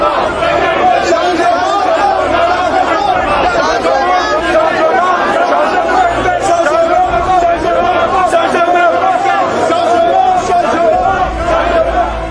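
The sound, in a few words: dense crowd welcoming opposition leader in Yaoundé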